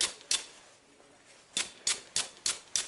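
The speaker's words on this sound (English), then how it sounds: "you simply take a stiff brush of some kind. This is actually just a plastic bristle brush" A stiff plastic bristle brush scrubs metal shavings out of a file while sharpening garden tools, with six short sharp scratchy strokes, close and fairly quiet.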